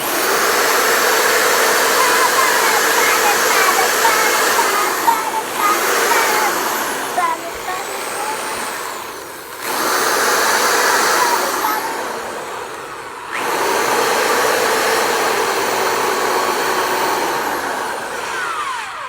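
A polishing machine buffing pinball parts with polish gives a loud, steady motor whine and rushing hiss. It runs in long stretches, dips briefly twice as the load changes, then spins back up, close and continuous.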